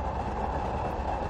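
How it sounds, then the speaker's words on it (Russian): A moving train on a propaganda tour produces a steady, close rumble with a dense rattling texture and no voices, holding at an even level through the short stretch. "Скорость большая стала, усилилась скорость поезд."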